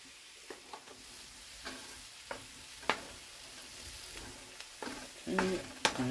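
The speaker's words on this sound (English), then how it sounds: "Okay, and I just continue stirring. Gonna sweat down the mushrooms a little bit." Mushrooms and shallots sizzle steadily in a frying pan while a spoon stirs them, with intermittent scraping and clicking strokes over the continuous hiss, close and moderately loud.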